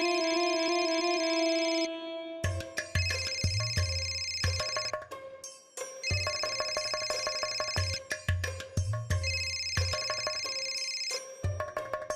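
A telephone rings in a Marathi TV serial scene. A steady electronic tone gives way to three loud, repeated bursts of a warbling ringtone with short pauses between them, with no voices over it.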